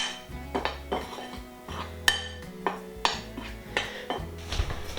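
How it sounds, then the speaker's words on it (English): A spoon scrapes and knocks against a metal pot while stirring a green tomato mixture, a series of clinks and taps in uneven rhythm, close and fairly quiet with no talking. "I'm just going to stir that up a little bit just to mix that around in there"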